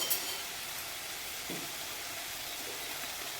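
Tomatoes sauté in a pan for masala chapathi, a steady soft sizzle with a faint brief stir partway through.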